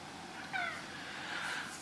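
House cat giving a single short meow near the middle, soft and somewhat distant against a steady room hiss, followed by a faint trailing murmur.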